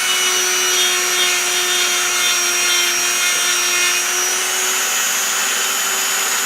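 A Dremel rotary tool cuts a line on an old S10 model boat with canvas covering. It gives a continuous high-pitched whine with steady harmonic tones and rough grinding texture, loud and close, with no voices.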